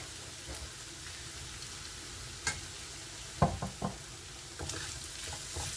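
Garlic and cumin paste frying in hot oil in a home kitchen, a quiet steady sizzle with a few sharp knocks and stirring clatters near the middle and end, no talking.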